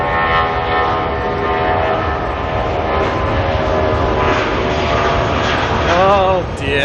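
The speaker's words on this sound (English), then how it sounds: "it's Jetstar 235 making its way off to Christchurch" Jetstar airliner taking off from Auckland Airport, a loud continuous jet engine roar with a steady drone throughout, people talking over it.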